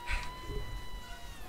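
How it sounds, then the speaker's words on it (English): A single short cat meow comes at the start, fairly faint, over a steady background hum with electronic tones. "Sorry if you can hear my cat."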